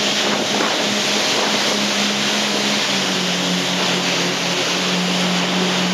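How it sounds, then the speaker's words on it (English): A loud, steady engine of an old World War II PT boat drones close by with a constant low hum, mixed with rushing water and wind noise, no talking. "This is an old, looks like World War II PT boat."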